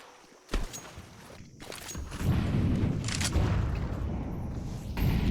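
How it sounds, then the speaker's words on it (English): Grenades thump and boom in a Counter-Strike match, several muffled blasts rolling through a tunnel amid loud rumbling game noise. "A little bit of nade exchange outside, back in the spawn tunnel"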